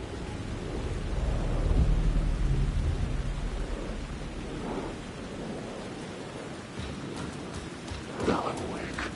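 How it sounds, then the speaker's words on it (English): Deep rolling thunder rumbles through a steady downpour in the video game Alan Wake 2, swelling early and then easing into hissing rain with softer distant rumbles. "The rain never stopped falling."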